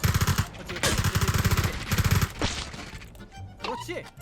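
PUBG gunfire: rapid automatic bursts, three tight volleys in quick succession, loud and close, followed by a sharper crack, with a voice calling out briefly near the end.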